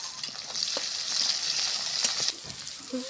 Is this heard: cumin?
yes